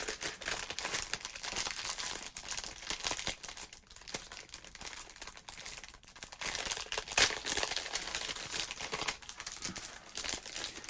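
A 1987 Topps Rack Pack of sports cards is crinkled continuously up close, dense crackling plastic wrapper rustles in uneven bursts throughout, with no voices.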